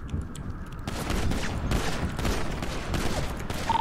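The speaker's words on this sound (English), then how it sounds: "Zaki, don't shoot to Ewron, please." Rapid automatic gunfire rattles in bursts during a GTA RP NoPixel game session, moderately loud and sustained with cracking shots layered over each other.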